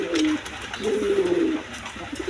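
Pigeons at a seller's loft coo in two drawn-out, wavering calls close by, with soft rustling between them.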